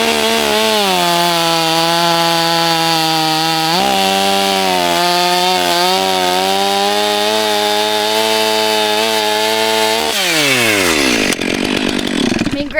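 A loud four-stroke chainsaw runs steadily at high revs as it cuts through a knotty wood slug, bogging briefly mid-cut, then winds down toward the end.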